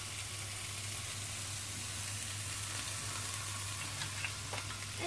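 Bell pepper frying in oil in a pan over a gas flame, giving a steady, even sizzle with no pauses and no talk over it.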